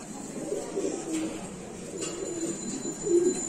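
Lahori pigeons at a pigeon farm coo softly nearby in low, throaty bursts over a quiet background hum, with no voices.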